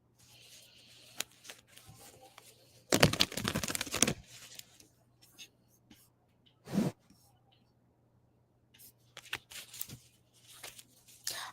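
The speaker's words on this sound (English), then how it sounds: "let's shuffle for Kaiser." Tarot cards are shuffled during a live reading, heard as faint, soft riffling and flicking with one louder burst of shuffling, then sparse light taps and rustles in a quiet room.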